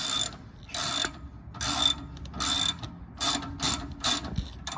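A ratchet wrench clicks in repeated bursts of rapid pawl ratcheting while working a stubborn bolt loose on a 4x4, close up with no talking.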